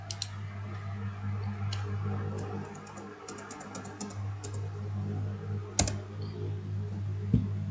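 Steady typing on a computer keyboard, with quick clustered key clicks and a few louder keystrokes over a constant low electrical hum.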